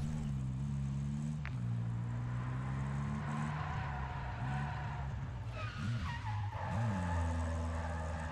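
A truck in a video game drives hard and skids, with a sustained engine drone and long, wavering tire squeals rising and falling over several seconds, loud and continuous.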